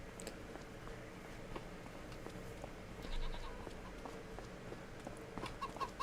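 Goats bleating in the Farming Simulator 2025 video game, several calls scattered over a steady bed of farm ambience, the loudest cry near the middle and a few fainter ones toward the end.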